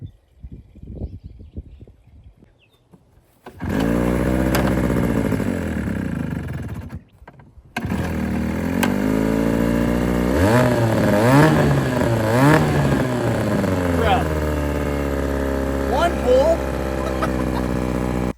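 A small Johnson outboard boat motor is pulled and catches, then runs with a buzzing, revving drone close by, briefly cutting out before restarting and holding a steady run with pitch swells.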